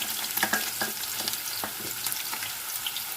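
Onions fry in oil in a pan for chicken pulao, making a soft, continuous sizzle broken by scattered stirring scrapes and pops, fairly quiet and close.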